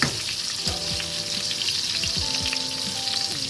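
Soya chunks fry in hot oil in a pan for veg chowmein, giving a steady, close, dense sizzle throughout, with soft tonal music running beneath.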